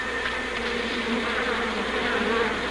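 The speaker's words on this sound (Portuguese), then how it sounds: "Para remover o enxame de abelhas ativas, como este, Chadwick começa oferecendo-lhes uma refeição." A swarm of active honey bees clustered on a tree branch gives off a dense, continuous buzzing drone that holds steady throughout, close and fairly loud, with no voices.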